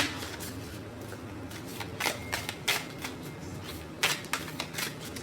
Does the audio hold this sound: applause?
no